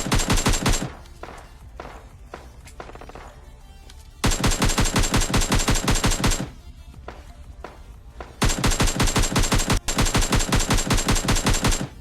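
Bursts of rapid automatic gunfire from PUBG Lite gameplay knock down bots, with loud, close volleys separated by quieter stretches of scattered thuds and footsteps.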